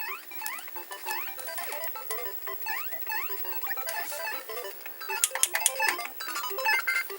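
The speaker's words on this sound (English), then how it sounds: "So it can fast forward double speed with the sound." A Toshiba VCR fast-forwarding a tape at double speed with the sound still playing, giving fast, chirpy, pitch-raised squeaky audio that runs continuously at moderate loudness, with no talk over it.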